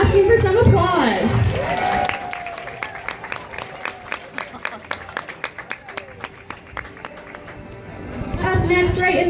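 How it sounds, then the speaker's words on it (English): Audience at an animal show habitat gives scattered, rhythmic clapping for about seven seconds, sharp individual claps over crowd murmur, with voices at the start and end. "Looks like he's coming out asking for some applause."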